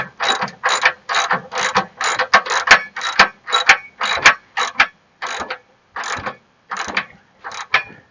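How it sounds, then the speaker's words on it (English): A hand ratchet tightens the rear shock bolts on a Chevy Trailblazer, giving a close, rapid string of sharp clicking strokes in short bursts with brief pauses, and no talk. "we'll get the ratchet and the wrench and tighten everything up"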